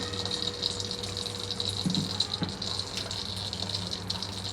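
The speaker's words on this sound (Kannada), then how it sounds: "ಸೊ ಇವಾಗ ನೀರು ಹಾಕ್ಕೊತಾ ಇದ್ದೀನಿ." Water pours into a cooking pot for making payasam, a steady close gush with light rattles and clinks, no talking.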